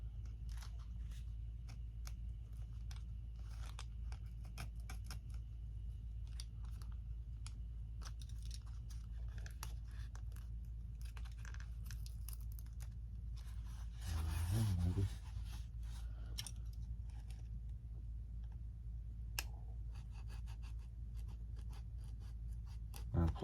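Hobby knife or scissors trimming the clear plastic canopy of an FMS A-10 Thunderbolt model airplane, a run of small close ticks and scrapes with a louder cutting burst partway through; no talking.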